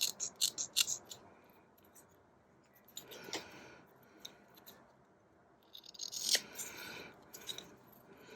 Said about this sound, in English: I'm just going to cut off these edges.